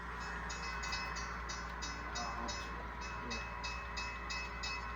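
An HO scale model coal train of unit cars hauled by BCR and BN engines runs steadily along the main line of a layout, giving a constant close rolling rumble with regular rhythmic clicks throughout and no talking.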